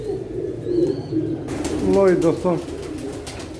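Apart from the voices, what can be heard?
pigeons cooing on a rooftop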